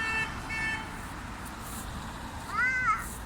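A single short cat meow rises and falls near the end, preceded by faint chirpy tones over a steady background hiss.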